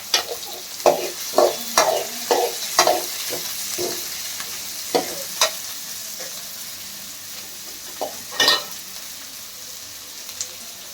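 Chopped onions fry in a pan for a home-style bean saaru, a soft continuous sizzle broken by a run of sharp, rhythmic scraping stirs early on and another burst of clattering near the end.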